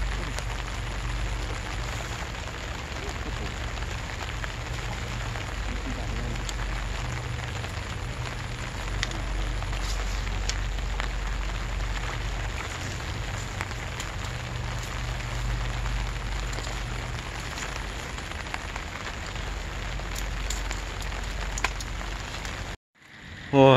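Steady rain falls throughout on a river during a fishing outing, a dense even patter that holds at constant loudness for over twenty seconds before cutting off abruptly at the end.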